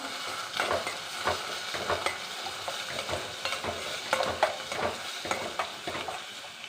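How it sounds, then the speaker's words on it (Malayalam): Puttu upma is stirred in a pan, with frequent scraping strokes of a spoon over a soft frying sizzle, close and fairly quiet with no talking. "ഇത് നമുക്കൊന്ന് ഇളക്കാം."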